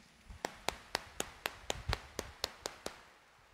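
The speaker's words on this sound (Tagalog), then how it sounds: "itaas ang kamay at pumalakpak ng mas malakas" Steady, evenly spaced clapping from a congregation during a morning mass at Quiapo Church: about eleven sharp claps on a regular beat, fairly faint, with no talking.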